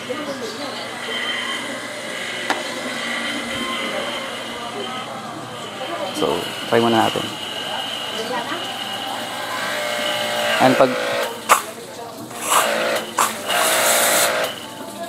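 A cheap heavy-duty pressure washer for motorcycle washing runs with a steady, loud mechanical drone, while a person talks over it and sharper spray bursts come and go near the end.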